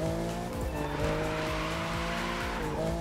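A Lamborghini drifting in the racing game The Crew 2, its engine revving hard with repeated gear-shift dips and tire squeal running under it throughout.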